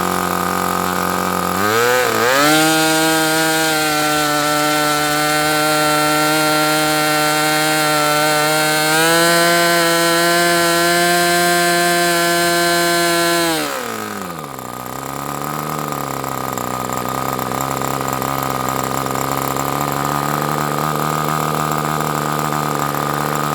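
An ST G61 model airplane engine with propeller runs at a steady high-pitched whine, then is throttled back, dropping sharply to a lower, rougher idle that continues to the end.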